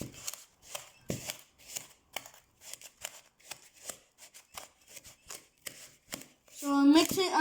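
Cookie dough is stirred by hand in a bowl, making a quick series of soft scraping, slapping strokes in an uneven rhythm, with a voice rising briefly near the end.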